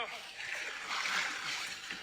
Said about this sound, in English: it jumps in the damn water